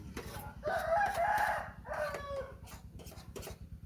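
A rooster crows close by in a long drawn-out call that breaks and resumes, over a steady low mechanical hum, with faint clucks and rustling around it.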